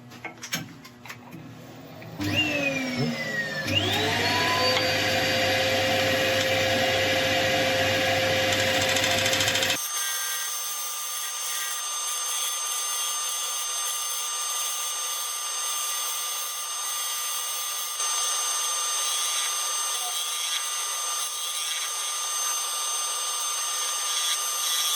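A woodturning tool is sharpened on a motor-driven grinder, which spins up with a rising whine and gives a loud, steady grinding hum. After about ten seconds the sound gives way to a thinner, high, steady tone with no one speaking.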